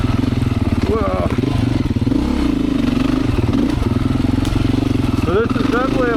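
A Beta 500 motorcycle ridden in second gear on tight single-track trail, its single-cylinder engine thumping steadily up close with rises and falls in revs and some clatter, a rider's voice briefly audible over it.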